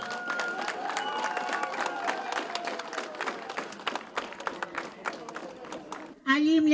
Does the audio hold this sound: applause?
yes